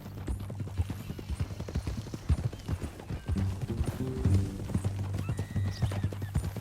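Horse hooves clip-clop in uneven bursts, with a whinny rising in the middle, in Red Dead Redemption 2, close and moderately loud over a low ambient bed.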